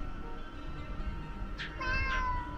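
A cat-attack move called Vicious Meowing in the video game Moth Light gives two short, bright meows over steady game background noise, with a louder stretch toward the end.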